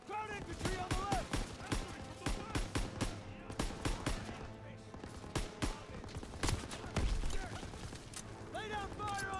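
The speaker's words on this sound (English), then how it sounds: "Lay down fire on that MG!" Machine gun fire in Call of Duty WW2 during the Hill 493 mission rattles in rapid, sharp bursts, near and loud, mixed with scattered gunshots while soldiers shout in between.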